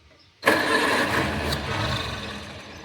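Vintage Farmall Cub tractor engine sputtering to life while starting after refuelling, with a sudden catch and then a rough, steady mid-pitched running rumble, close and loud.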